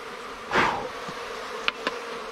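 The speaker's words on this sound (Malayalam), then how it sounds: "നല്ല ഈച്ചൊക്കെ ഉണ്ട്, നല്ല പെട്ടിയാണിത്." Honey bees hum around a wooden hive box during honey harvesting, one bee buzzing close past in a brief swelling drone, followed by faint background hum and a couple of light clicks.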